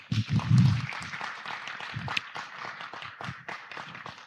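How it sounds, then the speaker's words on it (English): An audience at a Commonwealth digital conference roundtable applauds a speaker: a denser burst of clapping at the start thins into scattered claps that taper off. "Give her another big round of applause."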